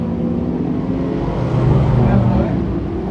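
Limited sportsman race cars battle through turns three and four on the Can-Am Speedway oval, engines roaring in a loud sustained drone that swells briefly as the pack passes.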